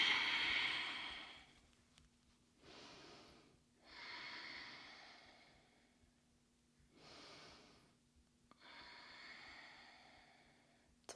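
Slow, deliberate yoga breathing, long airy breaths rising and fading in a calm rhythm, heard close in a quiet room.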